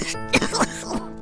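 A boy coughs in a short harsh burst of two or three throaty coughs with some throat clearing, close and alone.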